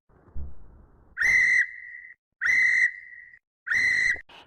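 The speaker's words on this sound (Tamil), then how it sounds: "போலீஸ்காரர் விசில் அடிக்காரு" Three long, loud police whistle blasts in a steady rhythm, each a sustained shrill tone, with a short chirp at the end and silence between blasts.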